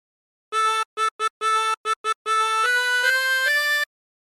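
A tremolo harmonica plays the third phrase of the sea shanty Drunken Sailor, with short choppy repeated notes first and then longer sustained chords rising in pitch, clear and close with no voice.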